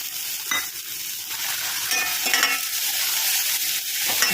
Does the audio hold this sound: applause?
no